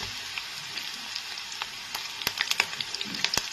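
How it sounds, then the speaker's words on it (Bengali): Green chillies added to garlic frying in oil, heard up close as a quiet, even sizzle that breaks into sharp pops and crackles near the end, with no talking. "এবার এর মধ্যে কাঁচা লঙ্কা দিয়ে দিচ্ছি"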